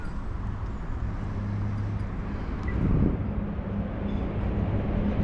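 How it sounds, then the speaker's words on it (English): An East Midlands Railway train passes through riverside gardens, a steady low rumble and rushing hum that swells slightly midway, heard at a distance under outdoor ambience without speech. "Train going through, East Midlands Railway."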